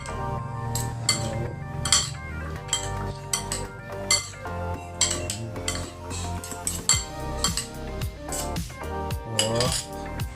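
Utensils clink and scrape against a bowl while raw fish is mixed for Filipino kinilaw, with repeated close, bright metallic taps in an irregular rhythm and no talking.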